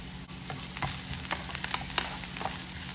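Onions, ginger and garlic sautéing in hot oil in a pan for chicken poriyal, a steady close sizzle with scattered crackles and the occasional scrape of stirring, no voices.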